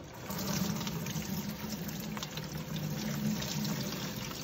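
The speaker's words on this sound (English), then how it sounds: "1 gallon of solvent with the remaining plant material and put it in a strainer" Solvent and leftover plant material pour steadily into a strainer, a continuous liquid splash and trickle running throughout at moderate, close-up level with no speech.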